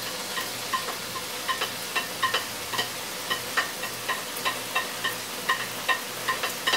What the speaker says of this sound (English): I'm going to put this in the pan and let it saute